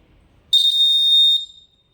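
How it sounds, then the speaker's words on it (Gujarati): A high-pitched electronic buzzer on a student-made traffic signal for blind pedestrians sounds its red-light alert, a single sustained shrill tone lasting about a second, loud and close, then cutting off into silence. "અને જ્યારે રેડ લાઇટ થશે ત્યારે બઝર કન્ટિન્યુઅસ વાગશે."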